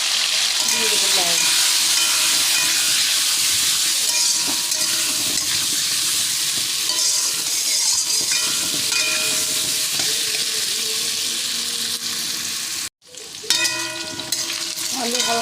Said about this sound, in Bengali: এবার দিয়ে দেবো কেটে রাখা আলু, দেবো হলুদ আর লবণ দিয়ে একটু ভালো করে নাড়াচাড়া করে